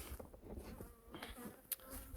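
Honey bees buzz as they fly around beehives, a steady outdoor hum of many insects at moderate distance with one brief louder pass close by.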